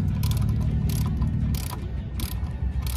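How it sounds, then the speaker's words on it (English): A torque wrench on the wheel nuts of an autograss race car gives several short bursts of sharp ratcheting clicks, close and fairly loud, with brief gaps between the bursts. "Torquing the wheels."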